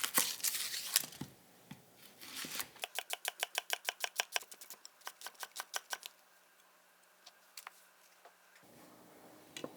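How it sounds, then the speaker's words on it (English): A knife finely dicing onions on a cutting board, a rapid run of crisp, even chopping taps that speeds up, then thins out to scattered cuts. Rustling handling noises come before the chopping. "First step, dicing up all of our onions."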